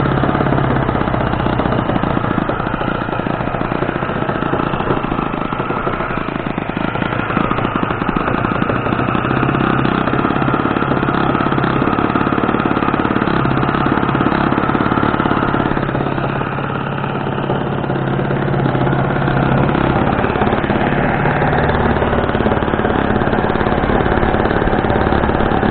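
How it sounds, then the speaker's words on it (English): A 4-Star 40 RC model airplane engine runs loud and close for the whole stretch, a steady, buzzing drone with slight rises and dips in throttle and no one talking over it. "Let's see if she'll fire up now, guys. Okay, motor's running, one flip."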